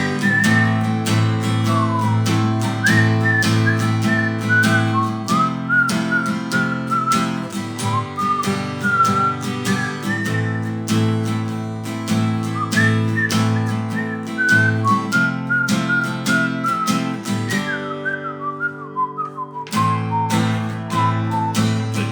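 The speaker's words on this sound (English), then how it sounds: "Maybe I should whistle." Melodic whistling of a tune over a rhythmic musical accompaniment with a steady bass and percussive hits, the clear, loud whistle rising and falling in pitch throughout before a brief pause near the end.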